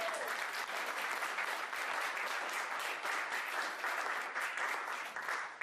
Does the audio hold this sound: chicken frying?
no